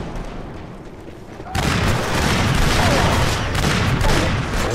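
M82 rifle fire in the video game Killzone 2, a loud sustained burst of shots that starts abruptly after a quieter stretch of game ambience and continues to the end.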